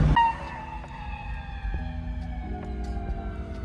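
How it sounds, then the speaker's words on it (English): An ambulance siren wails at a distance over traffic rumble, its pitch gradually falling as it passes, with no one speaking. "We got an ambulance coming."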